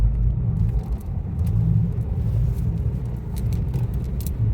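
A Honda Vezel drives along on a test drive, its cabin filled with a steady low road rumble and engine drone, with faint rattles and ticks over the top.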